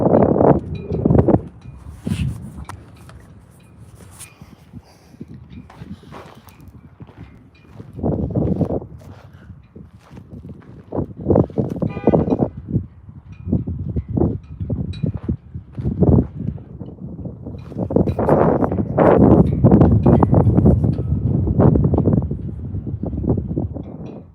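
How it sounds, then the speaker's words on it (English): Wind gusting outdoors at the Barry Goldwater Gunnery Range, buffeting the microphone in loud, uneven waves that rise and fall, with rustling and brief bursts swelling heavier toward the end. "The winds kind of went down. But it kind of like gust up and down."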